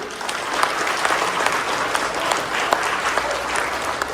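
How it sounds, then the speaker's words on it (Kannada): Audience applause for a teacher at a school event on Vachana literature, a dense, steady wash of many hands clapping throughout, with a few sharper individual claps standing out. "ಅವ್ರಿಗೆ ಒಂದು ದೊಡ್ಡ ಚಪ್ಪಾಳೆ ಕೊಟ್ಬಿಡಿ"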